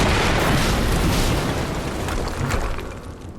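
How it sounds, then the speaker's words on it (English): In the video game Quantum Break, a big explosion roars near the harvesting perimeter, a broad, heavy rumbling blast that slowly fades over a few seconds with no voices. "we just heard an explosion near the harvesting perimeter"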